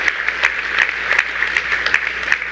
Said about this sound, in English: Let's have a nice round of applause for Anna and both Annas who helped